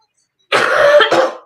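A dry cough, a short hacking burst followed by a second cough, close and fairly loud after a moment of silence.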